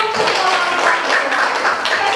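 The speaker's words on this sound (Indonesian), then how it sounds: "Kita beri tepuk tangan dulu" A classroom of students claps together at a school arts lesson, a short burst of brisk, steady hand-clapping close by with no talking over it.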